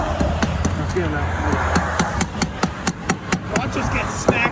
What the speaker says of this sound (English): use this as a hammer right here